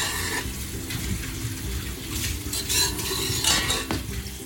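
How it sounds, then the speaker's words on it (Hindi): A spatula stirs a panjiri mixture in a hot pot, making continuous close scraping and clinking sounds with light sizzling and no talk. "मुसलसल अभी हमने स्पैचुला हिलाना है क्योंकि पतीला हमारा गर्म है"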